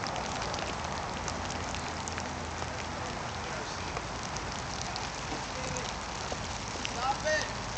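Steady rain falling on a surface outdoors at Tahoe, a soft, even hiss throughout, with a faint voice and a brief squeaky sound near the end.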